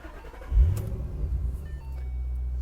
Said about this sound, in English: so we'll give the engine a crank.